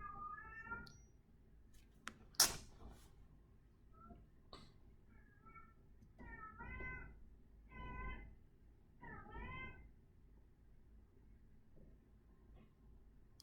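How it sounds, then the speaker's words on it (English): A cat meows several times, short rising-falling calls repeated at intervals, with a sharp knock and faint background rumble between them. "Sorry if you can hear the cat."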